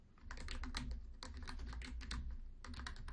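Fast, steady typing on a computer keyboard, close by, with rapid clustered keystrokes and no voices.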